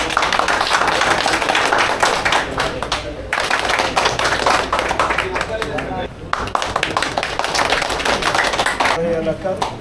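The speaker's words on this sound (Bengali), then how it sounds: "হাততালি" Crowd clapping at a BNP political gathering, dense and sustained through the whole stretch with brief dips, mixed with voices talking over it.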